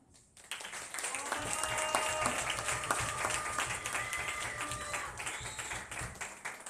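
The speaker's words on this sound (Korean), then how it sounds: "큰 박수 부탁드립니다" Audience applause at a school summer-break closing ceremony and presentation event, welcoming students about to present; steady clapping fills the room for several seconds, with some voices mixed in.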